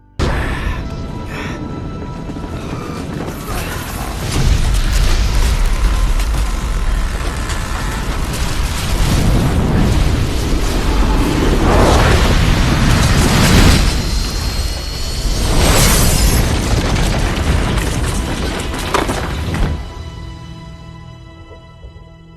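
A movie explosion: a loud sustained roaring blast with deep rumbling, several surging bursts and crashing debris over about twenty seconds, fading at the end.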